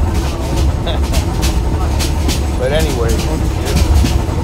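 Steady low rumble of a moving train heard from inside a carriage, continuous and fairly loud, with someone talking over it and a few faint squeaks and rattles.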